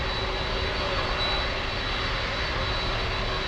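Boeing 767 jet engines idle steadily while the airliner holds short on a taxiway at Miami International, making a constant broad roar with a faint whine and no voices.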